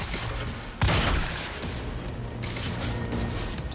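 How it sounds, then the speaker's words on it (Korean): Shotgun fire in the video game Quantum Break: one sharp, loud blast stands out above steady background game noise, followed by fainter scattered impacts. "이제 샷건만 쓴다 이씨"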